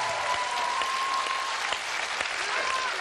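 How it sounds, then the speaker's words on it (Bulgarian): A TV talent show studio audience applauds for the performer Azis, continuous clapping under a faint background tone, fairly distant and even throughout. "Аплодисменти за Азиз, дами и господа!"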